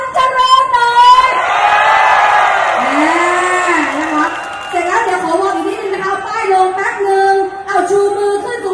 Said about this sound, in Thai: ขอเสียงกองเชียร์สุชาติตันเจริญหน่อย